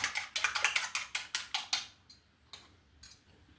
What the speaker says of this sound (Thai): แล้วก็ตีไข่หนึ่งลูกนะครับ